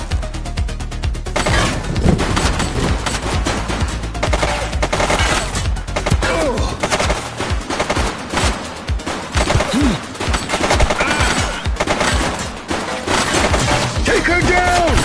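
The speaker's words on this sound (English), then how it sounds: "She's shooting!" Heavy gunfire from the video game The Precinct, with rapid, continuous bursts and loud shots filling the whole stretch, while voices talk over the shooting.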